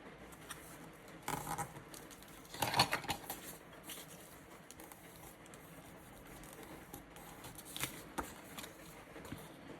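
Stiff paper-bag journal pages being folded and creased by hand, giving soft crinkling rustles with a few louder crackling bursts, heard close and on their own.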